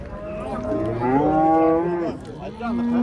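An ox lows at a Surxondaryo livestock bazaar, one long, loud moo that rises and then holds its pitch. A second, lower call begins near the end, and faint market noise runs underneath.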